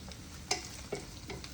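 Water quietly bubbles at a boil in a pot with eggs added, a low simmering hiss broken by a few soft pops.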